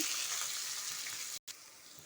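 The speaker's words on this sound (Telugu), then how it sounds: "పోపు వేగిందండి, ఆనియన్స్ వేసుకుంటున్నాను" Onions frying in tempered oil for a tomato curry, a steady soft hiss of sizzling heard close, briefly cut off near the end, with no speech.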